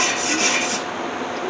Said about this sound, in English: Let me scrape this. I know with flux core you've got to take and scrape it